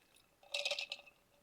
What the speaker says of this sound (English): you're going to pour a little bit of water into it